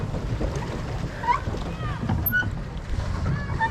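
A rowboat glides across clear river water in Meghalaya, with a steady low wash and rumble of water under faint scattered bird-like chirps and light wind.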